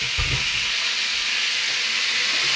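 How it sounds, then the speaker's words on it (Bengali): Loud, steady sizzling and hissing of potatoes and vegetable stems frying in an oiled wok, with a brief soft stirring thump at the start. "দিয়ে দেবো তো কড়াইতে আলু আর ডাঁটাগুলো"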